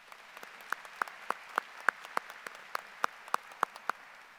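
Sparse, evenly spaced hand claps in a large graduation ceremony venue, a few distinct claps rising above a faint background of quieter applause.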